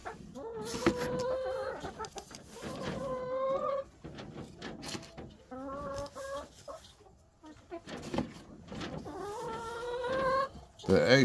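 Backyard chickens cluck and squawk in repeated bursts close by, with short pauses between calls and some faint rooster-like tones, no talk.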